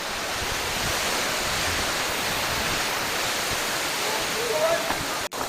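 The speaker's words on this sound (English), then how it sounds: "7 stages of waterfalls." Steady broadband roar of Erin Ijesha Waterfall in Nigeria, loud and continuous. Faint speech-like traces come in near the end, then a brief click and dropout.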